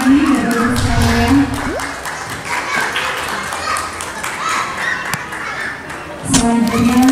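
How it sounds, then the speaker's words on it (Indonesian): An audience at an Indonesian welcoming ceremony for tourism ambassadors from Palangkaraya visiting Malang Regency breaks into a burst of clapping, with people talking at the start and again at the end. "Boleh tepuk tangan sekali lagi Bapak-Ibu sekalian"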